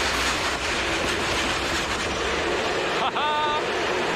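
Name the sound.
low priority freight train moving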